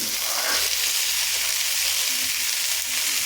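Slit green chillies, peas, cashews and raisins fry in hot oil in a pan, giving a steady, even sizzle that holds without a break throughout, with no voices over it.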